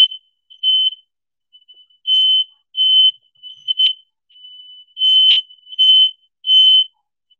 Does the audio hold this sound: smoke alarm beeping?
yes